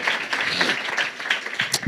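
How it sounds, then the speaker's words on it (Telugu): A church congregation at a family blessing gathering claps loudly together, a dense burst of applause heard close. "గట్టిగా చప్పట్లు కొట్టండి"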